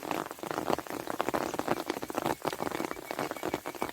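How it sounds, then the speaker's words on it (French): Steady rain patters over a vegetable garden with tomato plants, a dense continuous hiss of drops with scattered louder splats, close and fairly loud, with no voices. "La pluie tombe."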